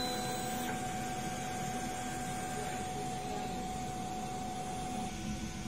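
DTF printer running a print head cleaning cycle, giving a steady, fairly quiet mechanical hum with a faint airy hiss. It holds even for several seconds with a slight change partway through and no speech.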